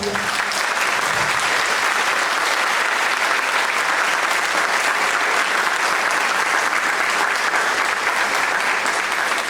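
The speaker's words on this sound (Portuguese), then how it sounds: "A gente precisa dar uma salva de palmas," Sustained audience applause in a Brazilian clown school setting, a dense, steady wash of many hands clapping at full volume with no break.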